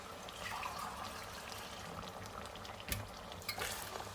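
Water added to a pot of browned ghee and meat for aloo gosht shorba, giving a soft, steady sizzling hiss and bubbling with a couple of faint clinks, heard up close and fairly quiet.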